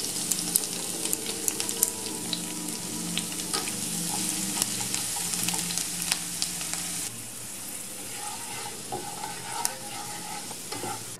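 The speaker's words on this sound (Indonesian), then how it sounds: "goreng bawang putih, jahe, dan cabai yang tadi sudah kita potong-potong" Oil sizzles steadily as garlic, ginger and chili fry in a pan, with scattered crackles and the scrape of stirring; the sizzle dips quieter partway through.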